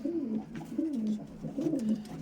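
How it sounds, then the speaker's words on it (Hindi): A Saharanpuri female pigeon coos in three soft, rolling phrases, close and clear with faint background noise. "ये कबूतरी है सहारनपुरी"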